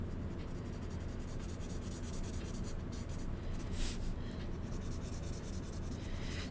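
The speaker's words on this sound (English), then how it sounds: "we're going to go over it again with black marker at the end" A black marker scratches steadily across paper as it traces over pencil lines of a pug drawing, a close, continuous dry squeaking scrawl with short bursts of faster strokes and no talking.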